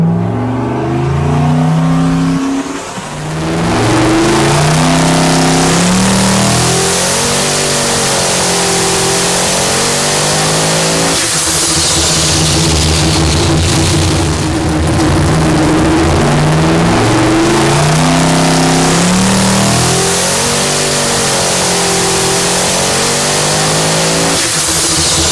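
A turbocharged engine with an Armageddon Turbo Systems setup, pulling a dyno run at 17 psi of boost and peaking near 923 horsepower at 7,300 RPM. It sounds loud and close, with a sustained rising, sweeping roar and a brief dip around three seconds in.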